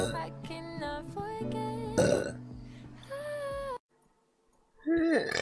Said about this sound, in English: my burp's kind of be on point right now